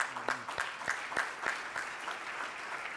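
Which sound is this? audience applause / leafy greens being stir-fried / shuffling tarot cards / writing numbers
audience applause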